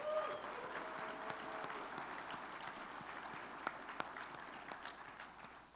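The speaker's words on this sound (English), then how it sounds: "Let's give everybody a round of applause." Faint, distant audience applause for military veterans at a trucking event, soft scattered clapping spread across the room at low level.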